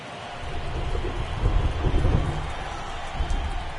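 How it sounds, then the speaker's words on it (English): Steady heavy rain pours down over a Blue Jays versus Cardinals baseball game, a continuous dense hiss with low rumbling swells, loud and unbroken throughout. "This rain is not letting up."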